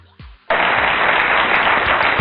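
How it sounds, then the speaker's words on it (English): A sudden burst of dense applause starts after a brief moment and continues steadily, sounding like a recorded crowd clapping effect. "Let me play the applause for you"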